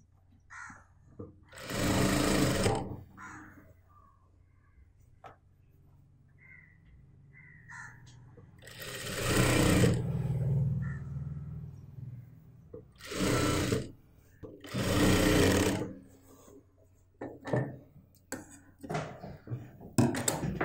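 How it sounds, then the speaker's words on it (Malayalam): A sewing machine runs in several loud bursts of rapid stitching while the back neck of a churidar is sewn, with pauses between runs and crows cawing in the background. "കറക്റ്റ് ലെവലിൽ ഇതുപോലെ വെച്ചിട്ട് ബാക്ക് നെക്ക് സ്റ്റിച്ച് ചെയ്യാം."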